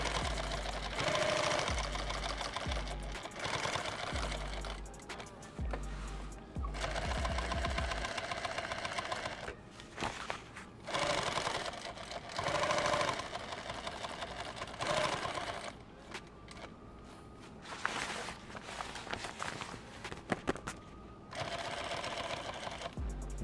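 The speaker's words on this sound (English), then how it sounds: "You can sew backwards when you're doing these box X's." Sewing machine stitching box X reinforcements on a kit bag, running in rapid bursts with short pauses between runs, close and steady throughout.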